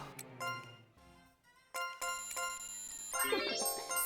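Bells chime in the video game Labyrinth of Refrain, bright ringing tones layered over game music, with sustained notes and a rising sparkle of chimes toward the end.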